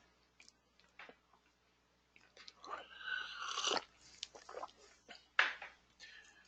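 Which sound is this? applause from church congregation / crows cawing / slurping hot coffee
slurping hot coffee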